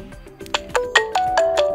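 A short ringtone preview plays on a Skagen Falster 3 smartwatch, a quick sequence of bright chiming notes rising in volume, heard alone at close range.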